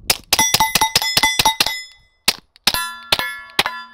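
A suppressed rifle fired in rapid bursts through magazines, a quick string of sharp metallic cracks with ringing clangs, a pause, then several more spaced shots, loud and close, no talking.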